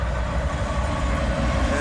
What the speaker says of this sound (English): Sounds like a train.